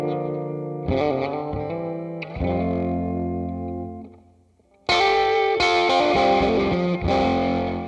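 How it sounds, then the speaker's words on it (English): Electric guitar through an amp that starts clean and breaks up into mild distortion with echo and chorus-like shimmer, sustained chords and notes ringing out, a brief drop near the middle, then a fuller, harder-struck section. "when he's playing quiet, it's kind of clean. And then you hear the amp break up a little more"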